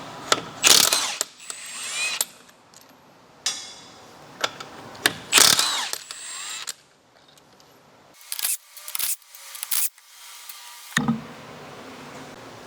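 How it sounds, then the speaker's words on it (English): A hand ratchet with a 22mm socket clicks in quick bursts while wheels are removed from a C8 Stingray, loud and close, separated by short pauses and a few metallic clanks; no speech. "You're going to grab our 22mm socket, take off both rear wheels."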